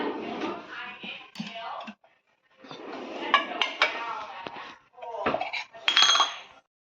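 A spoon clinks against a cup or pot while a little ghee goes into hot water for a home cough remedy, several sharp metallic taps in short bursts between pauses, close by.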